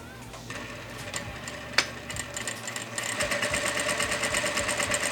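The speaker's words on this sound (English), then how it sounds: "just doing a back stitch is what I'm going for" Vevor industrial sewing machine back-stitching a double-layered ribbon tutu, short bursts of rapid mechanical stitching close by, then a steadier whirring run toward the end, with a sharp click in between.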